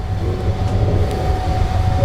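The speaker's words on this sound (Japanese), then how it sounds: "今日最後の大阪へ向かう普通電車が今反対方向に行き去りました" A local Tokaido Main Line train bound for Osaka passes in the opposite direction, heard from aboard the Sunrise sleeper express as a loud continuous low rumble with a faint steady tone over it.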